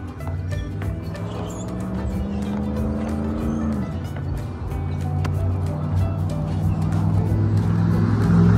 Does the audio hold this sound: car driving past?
yes